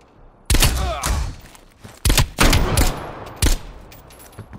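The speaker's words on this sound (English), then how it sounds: "Somebody's taking a sniper shot." Sniper rifle fire in the video game Call of Duty Black Ops Cold War: loud, sharp shots in separate bursts, each trailing a booming echo, with no talking.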